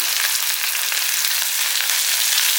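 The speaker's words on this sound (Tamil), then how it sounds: "மூணு பழுத்த மிளகாயும் பச்சை மிளகாயும் ஒரு மூணு போட்டிருக்கேன் இது நல்லா வதக்கிடுங்க" Red and green chillies sauté in a pan for a Tamil chutney, giving a steady, even frying sizzle with a few soft stirring knocks and no voices.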